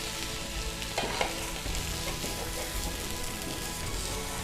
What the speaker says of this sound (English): we're gonna carefully transfer these over to our hot pan and let them cook on one side